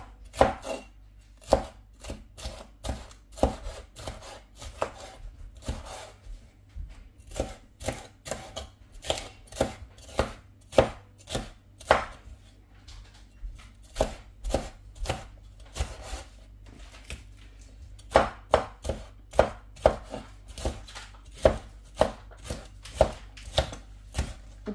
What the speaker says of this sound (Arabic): كمان نفرم الفليفله ناعم